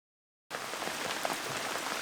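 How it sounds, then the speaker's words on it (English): Heavy rain beginning abruptly after a moment of silence, then pouring as a dense, continuous hiss of drops drumming on surfaces while anchored aboard a boat. "The next day we wake up to rain, and lots of it."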